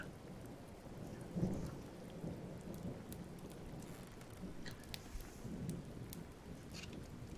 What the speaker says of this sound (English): I love the sound of thunder.